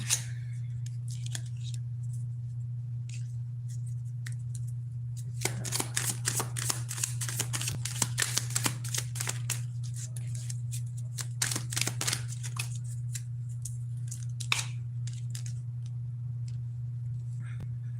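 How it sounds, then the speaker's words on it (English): Tarot cards being shuffled by hand, quiet at first and then a run of dense riffling flutters and soft slaps, close and crisp over a steady low electrical hum. "Let's go ahead and pull some more cards."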